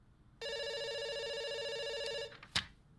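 A telephone rings in the video game Dr. Langeskov, The Tiger, and The Terribly Cursed Emerald, one long clear electronic ring of about two seconds, followed by a short click.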